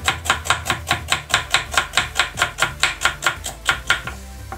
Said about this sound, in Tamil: இந்த மாதிரி வெங்காயம் வந்து இந்த சைடாக கட் பண்ணிக்கோங்க